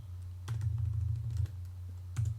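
Typing on a computer keyboard during a Python coding session in Google Colaboratory, soft close clicks in two quick bursts separated by a pause, faint and with no talking.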